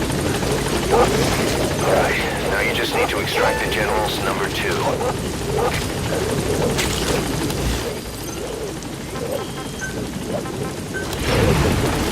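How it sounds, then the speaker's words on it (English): A support helicopter in Metal Gear Solid V arrives at a landing zone, its rotor wash roaring loud and continuous under radio voices and gunfire-like bursts, fading slightly before swelling again at the end. "Support helicopter has arrived."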